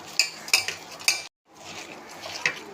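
Hand-mixing banana flower vada batter with salt, curry leaves and asafoetida in a bowl, giving close wet squelches and a few sharp clinks against the dish in uneven bursts, with a brief silent gap midway.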